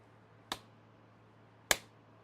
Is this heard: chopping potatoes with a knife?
no